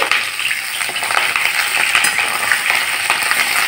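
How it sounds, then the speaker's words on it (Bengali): Cauliflower florets frying in oil in a pan at home, a close, steady crackling sizzle with scattered sharp pops and the scrape of stirring throughout. "কপিগুলো ভাজছি"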